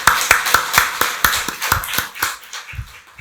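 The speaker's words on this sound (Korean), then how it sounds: "박수로 하나님께 영광 돌리겠습니다." A church congregation applauds at a Christmas thanksgiving service, with rhythmic, closely spaced claps in unison that are loud at first and then gradually thin out.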